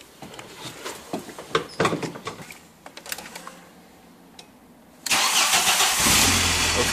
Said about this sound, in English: first of all, I have to start the car and turn it around